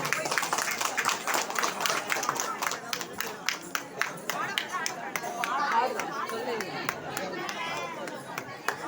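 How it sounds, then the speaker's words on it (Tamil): Applause and crowd chatter fill a temple hall as a student is welcomed onto the stage, with scattered sharp claps over a steady murmur of voices throughout. "அவர்களை கரகோஷம் எழுப்பி வரவேற்குமாறு விழாக்குழுவின் சார்பில் கேட்டுக்கொள்கிறோம்"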